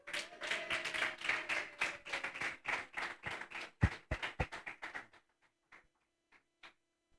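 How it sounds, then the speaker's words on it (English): Audience applause at a gastroenterology best-practice guidelines conference in Uganda: dense, close clapping fills about five seconds, then thins to a few scattered, separate claps before fading out. "Give a big round of applause to Professor Ochama, sir."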